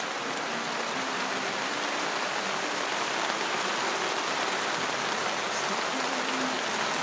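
Rain falling on a tent at a campsite, a dense, steady hiss of drops pattering on the fabric from inside, continuous and fairly loud with no talking.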